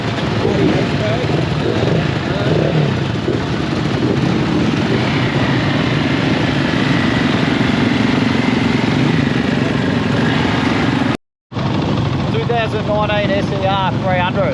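A motorcycle engine idles at the 2023 Sawmill Rally, a continuous loud, throaty rumble heard close by throughout. People talk over it, and the sound cuts out briefly near the end.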